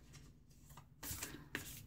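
A deck of oracle cards is shuffled in a few quick riffling bursts, soft and close, with no talking.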